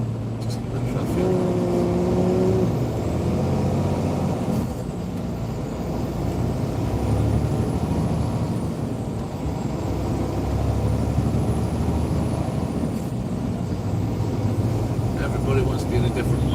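Heavy Los Angeles freeway traffic with trucks makes a steady, dense rumble and road roar that continues throughout, with passing vehicles swelling and fading.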